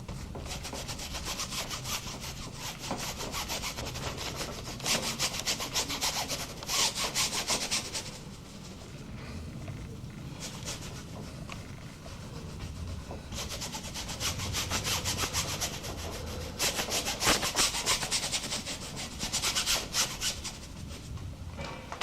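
A paintbrush scrubs a background onto canvas, making rough, rhythmic scratchy strokes in bursts that swell and fade, close and fairly loud, with no talking.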